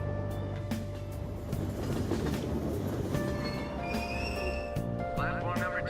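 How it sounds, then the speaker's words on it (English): A train at a station in Persona 5, with a rumbling rolling hum, rhythmic clatter and faint squeals mixed with a chime, while people talk over it. "Go back to the train station."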